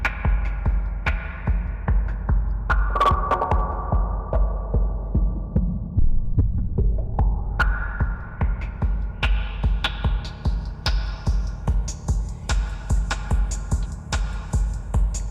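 A deep, pulsing synthesized tone throbs steadily while a resonant filter sweeps down and then back up, trailing a washy reverb tail; no voices.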